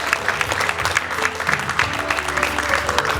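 An indoor audience at a 2020 education roundtable forum in Uiseong claps steadily as dignitaries are introduced, a dense patter of applause lasting a few seconds.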